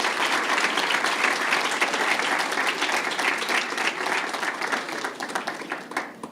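A lecture audience claps steadily, a dense, even wash of applause that carries on throughout without pause.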